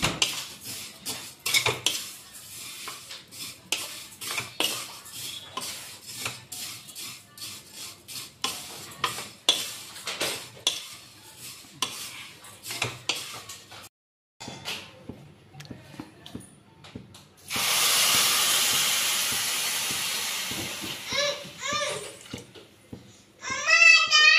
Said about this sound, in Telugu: సిమ్లో పెట్టి నిదానంగా వేయించుకోవాలి